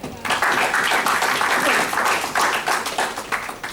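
An audience at a motivational talk breaks into loud, continuous applause, a dense wash of many hands clapping that holds steady for several seconds.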